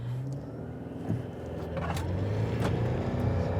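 A new Subaru Forester hybrid in sport mode accelerates hard from a standstill toward 120, its engine note climbing steadily and growing louder inside the cabin, with faint road noise underneath.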